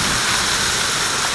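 Hail pours down outdoors in an Edmonton summer storm, a dense, steady, loud hiss of ice pellets hitting the ground, a fence and nearby surfaces, with no voices.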